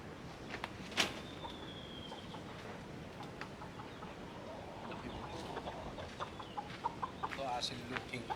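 Asil-looking sweater gamefowl rooster lets out clucks and calls amid outdoor yard ambience with other birds, while someone talks over the scene.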